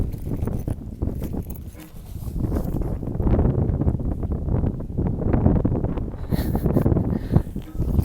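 Wind buffets an outdoor microphone in steady, loud low rumbling gusts that run through the whole stretch, with no clear talk over it.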